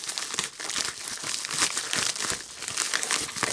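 Toy packaging crinkling and rustling as an action figure is unboxed, with dense, continuous plastic crackles and occasional tearing sounds close up and loud, with almost no talk.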